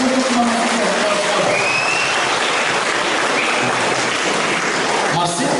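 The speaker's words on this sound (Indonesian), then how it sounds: "Tepuk tangan untuk semuanya." Applause fills a thanksgiving Mass for the 32nd anniversary of SMAS Bhaktyarsa Maumere, a loud and steady wash of clapping from the congregation that continues for several seconds.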